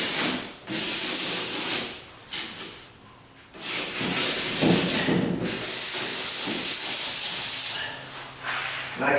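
A painted door is sanded lightly by hand, with rhythmic rasping strokes in bursts of varying length separated by brief pauses, close up and alone.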